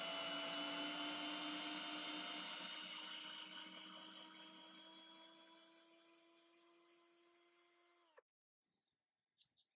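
A cordless ratchet runs steadily at speed 1, driving M6 screws with a continuous whirring motor hum for about eight seconds before cutting off abruptly, followed by a few faint clicks.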